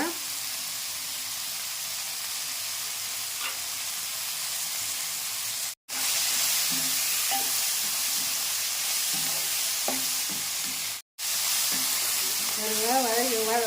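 Tomato chutney with curry leaves sautés in a pan with a steady hissing sizzle and light stirring. Two short silent gaps interrupt it, and a voice is faintly heard near the end.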